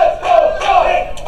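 Wrestling event crowd at a match, a loud sustained roar of cheering and shouting voices rising and falling in waves throughout, close and dense.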